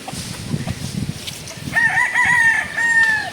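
A rooster crows loudly and close by in a long drawn-out call, following a stretch of rustling and muffled background noise on a rural outdoor set where coconuts are being gathered.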